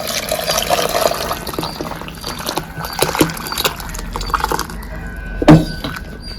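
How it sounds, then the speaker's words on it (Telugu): Rasam water for Andhra pappu charu is poured into mashed dal, a close, continuous liquid splashing and gurgling with small clinks of a vessel and a brief louder splash near the end. "తర్వాత మనం నీళ్లు వంచుకున్నాం కదా, ఈ చారు పక్కకు వంచుకున్నాం కదా, ఇది కూడా ఇందులో పోసేసుకోవాలి."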